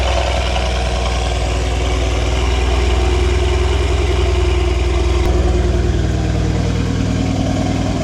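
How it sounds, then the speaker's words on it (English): A Mercedes C63 idles on a cold start, its exhaust giving a steady, loud, deep burble that holds evenly throughout with no voices. "So you can hear the exhaust."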